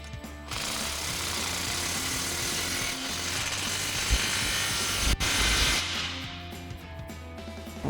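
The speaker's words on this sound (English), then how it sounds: "We'll tighten this down using our 15mm socket on our impact." An impact wrench with a 15mm socket tightens an exhaust clamp on a Toyota Tundra, a loud, continuous broadband mechanical whir lasting several seconds with a brief sharp knock near the end before it winds down.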